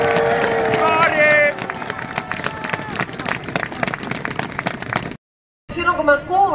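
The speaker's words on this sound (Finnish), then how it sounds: "hän ansaitsee vieläkin isommat aplodit kuin äsken kuuluu" A crowd at an outdoor football club celebration in a town square applauds and cheers under a loud announcer's voice, with busy clapping and crowd noise, then a short silent gap before more voices.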